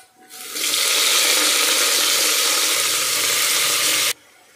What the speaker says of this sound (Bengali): এটাকে আমি বেরেস্তা করে নেব। তো বন্ধুরা, আমার এখানে বেরেস্তাটা করা হয়ে গিয়েছে। এর মধ্যে দিয়ে নেব আলু